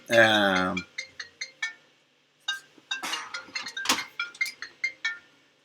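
A phone ringtone sounds in one short, loud melodic burst, followed by a quiet pause and then a run of light tapping clicks.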